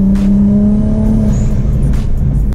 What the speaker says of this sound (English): Whenever you hear a turbo car, these are usually what you're going to hear whenever they let off the gas.